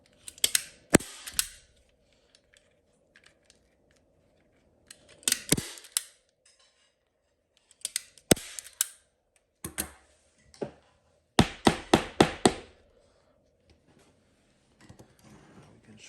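Staple gun driving staples through upholstery fabric into a chair frame, sharp snapping bursts in scattered groups, several single shots then a rapid run of about six near the end, close and loud against quiet pauses.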